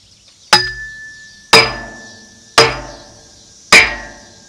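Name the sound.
hammering a post into the ground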